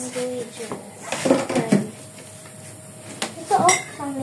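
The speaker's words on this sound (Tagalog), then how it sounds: "I-mix mo muna lahat ng dried na ingredients." Dry ingredients for puto are mixed in a bowl with irregular clinks and scrapes of utensil against dish, under Tagalog talk between people.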